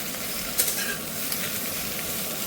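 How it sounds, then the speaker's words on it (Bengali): Okra and onion frying in a little oil in a pan on low heat, a soft steady sizzle with a few light stirring scrapes and taps, and no voices. "ঢ্যাঁড়সটা একসাথে ঢেলে দিলাম। ঢেলে দিয়ে হালকা একটু নেড়ে নিচ্ছি"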